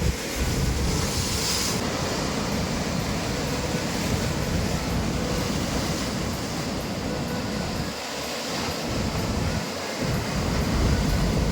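Sea waves crash against the rocks beside Rajkot Fort in Malvan, Sindhudurg, a constant, loud roar of surf with wind rumble and no pauses.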